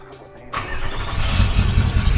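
A 4x4 engine cranks and fires into life at a campsite, a short starter whir giving way to a loud, steady rumbling idle that swells slightly and holds close by.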